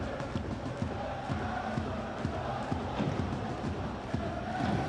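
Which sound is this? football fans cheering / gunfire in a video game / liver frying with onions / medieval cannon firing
football fans cheering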